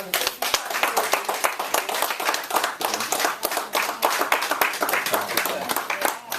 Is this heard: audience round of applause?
yes